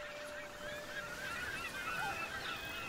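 Seagull cries from the pirate trading game Port Royale 4 ring out as a string of wavering, honking calls over a constant ambient bed of harbor noise, moderately loud with no speech.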